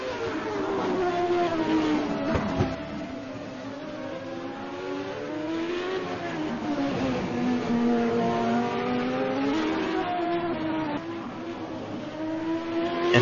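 Race cars at a CART round on the Long Beach street circuit, engines screaming steadily with rising and falling pitch as cars pass down the back straight, loud and continuous throughout, with no talk.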